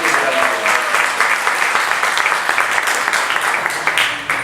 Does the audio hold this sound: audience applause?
yes